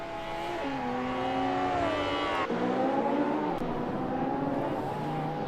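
A Nissan Skyline race car engine in a racing video game at Wellington, revving high and climbing through the gears, with a sharp downshift midway and then a rising whine as it pulls away.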